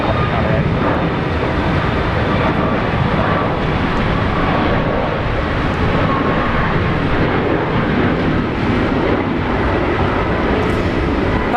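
Fiji Airways airliner at Brisbane Airport, heard as a steady, broad engine roar that holds level throughout, loud and continuous with no clear rise or fade.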